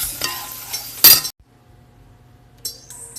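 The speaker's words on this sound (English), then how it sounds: "I just stirred in the half and half" Spoon stirring half and half into a cooking pot, a few quick clinks and scrapes against the pot with one sharp metallic clink, then near silence and a light sizzle near the end.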